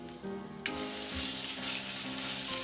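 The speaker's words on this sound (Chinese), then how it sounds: "大火把肉片炒熟" Pork slices stir-fried over high heat in a wok with garlic and ginger, loud continuous sizzling with scraping stirs and a sharp hiss as food hits the pan, close up and without talking.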